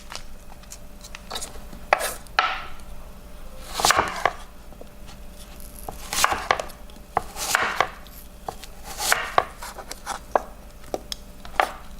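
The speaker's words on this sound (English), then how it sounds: "So how I cut my onions is I cut it into squares." A knife chops onions into squares on a cutting board while preparing a salad for shaken beef, giving sharp, close, irregular chops in short bursts, with no talk.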